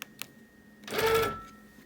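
A sewing machine stitches a wholecloth quilt in one short burst of fast, whirring stitching lasting about half a second, preceded by two small clicks.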